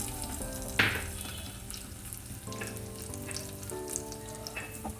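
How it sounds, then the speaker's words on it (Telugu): Raisins frying in a pan, a faint steady sizzle with one sharp utensil clink near the start and a few soft stirring sounds, quiet and without talk. "కిస్మిస్ కూడా ఫ్రై చేసుకోవాలి"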